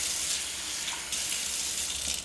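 Warm water runs from a kitchen tap while pizza dough is being started, a steady close splashing gush that briefly changes pitch midway, alone without talk.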